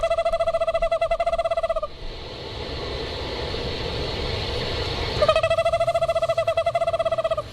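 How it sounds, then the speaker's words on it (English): An eastern screech owl gives long, steady trilling calls, two rapid monotone trills separated by a stretch of rustling background noise. "play some eastern screech owl morning calls"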